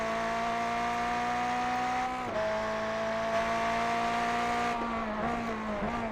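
A GT3 race car engine in the video game iRacing at Bathurst whines at high pitch, its tone climbing and dropping with gear shifts, steady and close with no talking.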